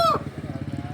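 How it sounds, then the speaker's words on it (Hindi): A rooster in a village crows in one brief high call at the start. A steady motor-like throb pulses loudly underneath and carries on after the crow fades. "ये मुर्गे की आवाज़ आ रही है"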